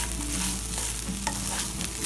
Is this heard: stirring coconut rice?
yes